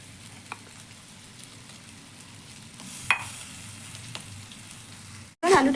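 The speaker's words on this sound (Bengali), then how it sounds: "এবার আলুটাকে ভালো করে কষিয়ে নেব।" Mashed potato filling for stuffed luchi sautéing in a pan, a soft, steady sizzle with a few light clicks of stirring. A brief louder rustle comes at the very end.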